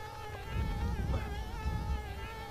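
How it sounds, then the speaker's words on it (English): Bees buzz steadily in Conker's Bad Fur Day, a close, continuous insect drone with a wavering pitch that holds for a few seconds without speech. "there are more bees"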